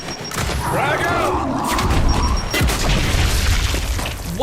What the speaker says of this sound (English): I was outside of the range of the explosion.